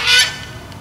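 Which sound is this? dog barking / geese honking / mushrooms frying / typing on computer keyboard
geese honking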